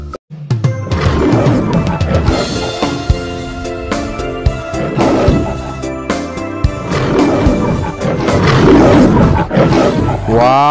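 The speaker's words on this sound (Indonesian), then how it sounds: "Ini namanya singa." A toy or cartoon lion gives loud, repeated roars that build and swell across several bursts, with crashing accents, close and alone without talk.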